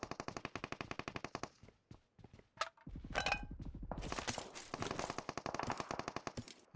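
An Uzi submachine gun in PUBG Mobile fires rapid bursts, a fast rattling stream of shots, then a brief pause and more long automatic volleys mixed with impacts and clatter.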